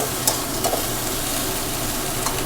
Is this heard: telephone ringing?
no